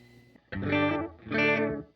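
Two sustained guitar chords with a shimmering, wavering modulation effect, each ringing out briefly before fading, played alone.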